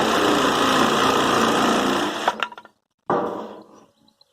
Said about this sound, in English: So for that, we're using the jigsaw.